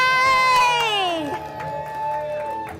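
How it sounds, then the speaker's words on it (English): A theater crowd at a comedy improv show cheers and whoops loudly, high shouts and screams sweeping and falling over a steady roar, heard close and continuous. "Let's hear this crowd go wild."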